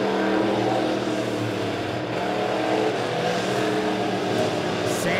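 Midwest Modified dirt track race cars roar around Springfield Raceway during a heat race, a continuous loud engine drone with rising and falling revs as the pack circles, no talk heard.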